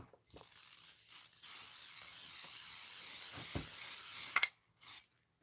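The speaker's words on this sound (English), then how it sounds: "You're just going to spray 12 inches of it, and we're going to lay it down." Aerosol can of sticky basting spray hissing onto quilt fabric in a sewing shop, a steady soft spray of about four seconds with brief pauses, ending in a few faint clicks; fairly quiet and close.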